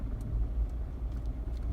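A Jeep JK pulling away on a high desert dirt track, its engine a steady low rumble with faint tire and gravel noise, fairly close and continuous for the whole short stretch, with no talking.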